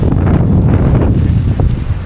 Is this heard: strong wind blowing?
yes